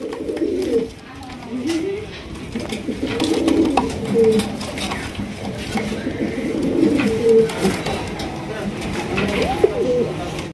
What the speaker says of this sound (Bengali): এটা কিন্তু একদমই হাই কোয়ালিটি বিউটি ডেনিশ কবুতর